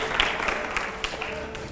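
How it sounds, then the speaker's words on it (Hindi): Steady applause from a crowd at a televised interview event, a continuous wash of clapping lasting under two seconds. "तालियां हो जोरदार जरा।"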